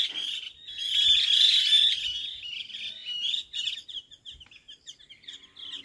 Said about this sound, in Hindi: फलों को खाने के लिए ना आसपास पक्षी भी बहुत आ रखे हैं